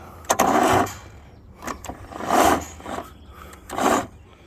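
An engine is cranked and tries to start in three separate bursts of about half a second each, with quieter gaps between them. The attempts are close and fairly loud, and it does not settle into a steady run.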